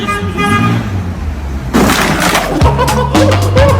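Horn honks sound at the start and again later, mixed with traffic noise and people talking nearby.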